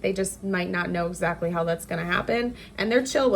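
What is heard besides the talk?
No distinct noise like a dog, phone or traffic.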